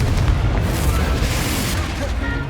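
Confringo spell explosion in Hogwarts Legacy, a heavy rumbling boom with a low, sustained roar that slowly fades over a couple of seconds, loud and close, with no voice over it.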